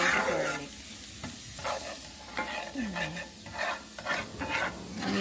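Garlic fries in a salted pan, a steady sizzle running throughout while a utensil scrapes and stirs in short repeated strokes, close and moderately loud.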